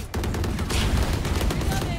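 Dense bursts of rapid gunfire from the video game Valorant fill a short, loud stretch of competitive play, with overlapping shots and booms and no clear talk.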